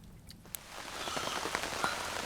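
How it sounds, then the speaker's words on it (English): Steady rain patters on surfaces just after midnight at a campsite on an island during a solo canoe trip, a dense continuous hiss of drops close by with no talking. "it's just after midnight, and you can hear the rain."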